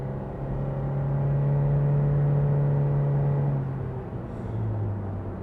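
A two-seater sports car with a CVT accelerates, its engine holding a steady droning whir that rises then drops off as revs settle, heard from inside the cabin, moderately loud and without talk.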